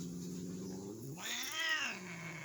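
A tortoiseshell cat gives a drawn-out, rising and falling meow, close and fairly soft, with no one talking over it.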